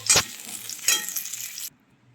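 Tomato, cumin and ginger paste added to hot oil after frying potatoes, two quick stirring scrapes over a short sizzle that cuts off abruptly.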